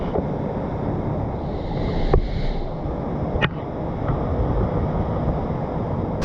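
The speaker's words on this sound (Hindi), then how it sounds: "नीर झरना है ना" Neer waterfall on the Ganges pours with a steady, dense roar of rushing water, heard close and loud throughout with no voices.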